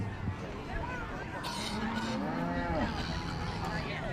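Cattle at a beef breeding show moo in a few drawn-out calls, moderately near, over a steady crowd murmur and an announcer talking throughout.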